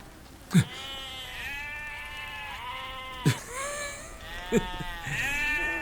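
Sheep from a shepherd's flock bleating close by, several wavering calls overlapping across a few seconds, with a few short knocks in between.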